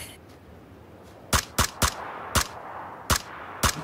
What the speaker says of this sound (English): Gunfire on our left.